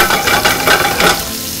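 Octopus searing in a hot frying pan, a loud, close, continuous sizzle with crackling bursts and stirring scrapes, no talking.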